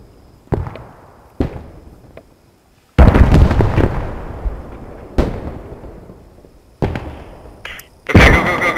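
Rocket and artillery explosions in the World War II game Post Scriptum: a series of sharp, loud blasts, a couple distant thuds followed by a heavy close detonation, then more separate booms with rumbling tails.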